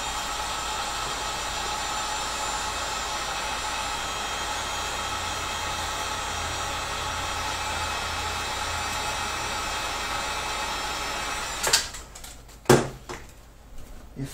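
A heat gun blows steadily on a rapier hilt, a continuous even rush of hot air held for about twelve seconds, then cut off and followed by a few sharp knocks and clunks of handling.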